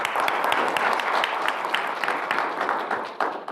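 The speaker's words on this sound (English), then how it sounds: "one round of applause for them all." Round of applause from attendees at a school board meeting, steady dense clapping filling the room for a few seconds without any talk over it.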